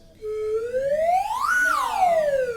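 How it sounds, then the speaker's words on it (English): A slide whistle played alone, one loud continuous tone that glides smoothly upward and then back down, with no talking. "This one is called a slide whistle."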